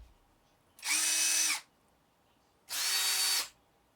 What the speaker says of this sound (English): probably just the difference in sound between brushed and brushless